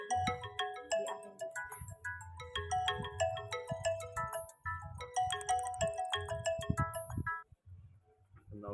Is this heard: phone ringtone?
yes